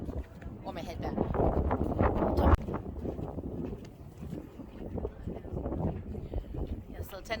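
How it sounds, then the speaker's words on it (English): Strong wind gusting across the microphone at Hoover Dam, a steady low rumble of buffeting air that swells and eases throughout, with a person talking over it. "It's really windy"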